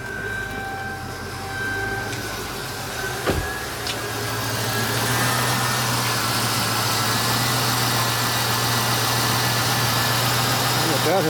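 A car engine cranks and catches about a third of the way in, then settles into a steady, close idling hum while a battery and alternator load tester checks the vehicle. Faint voices are audible early on.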